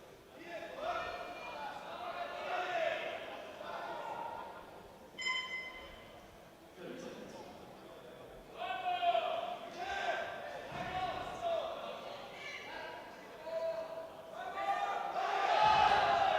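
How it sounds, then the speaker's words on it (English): A home crowd at the European Open Classic Powerlifting Championships cheers for a Croatian lifter, swelling shouts and applause rising in waves, moderately distant, under commentators' talk. "a strong support from the home crowd"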